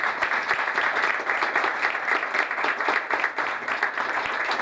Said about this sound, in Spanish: yo quiero brindarle un fuerte aplauso a Raúl